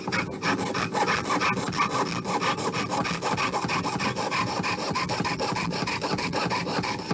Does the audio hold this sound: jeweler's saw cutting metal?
yes